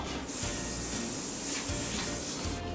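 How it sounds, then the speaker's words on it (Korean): Hairspray misting over a man's permed hair from a distance to set the style, a continuous close, steady aerosol hiss lasting a few seconds with slight swells, no talking. "자, 이제 고정을 할 때는 이렇게 스프레이를 사용을 해주시면 되고요"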